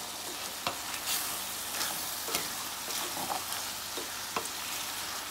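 Fried rice with shrimp being stirred in a hot pan, a steady sizzle broken by a few sharp scrapes and clacks of the utensil against the pan, close and fairly quiet, with no talking.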